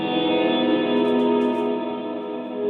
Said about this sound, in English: we get the reverb sound and we're actually delaying the reverb